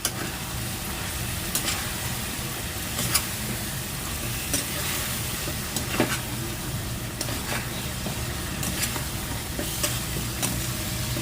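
Chicken with Kashmiri red chilli and salt frying in a pan sizzles steadily and close, broken by regular scraping strokes of a spoon as it is stirred.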